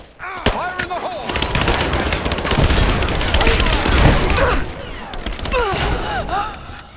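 Video-game gunfire in Rise of the Tomb Raider: loud, dense automatic bursts and scattered single shots roll on almost without pause, mixed with gasps, grunts and brief voices.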